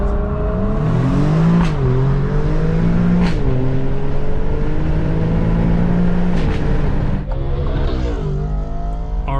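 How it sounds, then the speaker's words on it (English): A loud Audi RS5 engine revs and pulls through the gears nearby, rising in pitch repeatedly, with continuous road and engine roar throughout. "RS5 making some noise"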